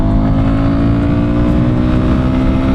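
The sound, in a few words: Royal Enfield Guerrilla 450 motorcycle accelerating hard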